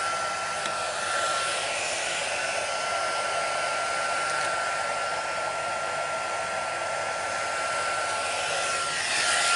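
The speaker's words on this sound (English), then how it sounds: "Be a bit noisy, just heating it up the gun." A heat gun blows steadily while heating embossing powder for a stamped card, making a loud, constant whirring blast with a high whine that runs unbroken throughout.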